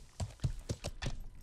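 Horse hooves clip-clop on ground in the medieval survival game Life is Feudal, five distinct close hoofbeats in a quick uneven rhythm, heard alone without talk.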